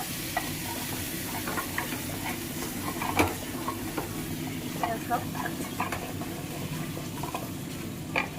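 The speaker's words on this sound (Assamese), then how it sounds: "খুব ধুনীয়াকৈ ভাজিব যিমানে হেতাখনে লৰাব সিমানে টেষ্টটো আমাৰ ধুনীয়া হয়" Steady sizzling of duck meat frying in a pan with repeated scraping and clinking of a spatula stirring it, moderately close.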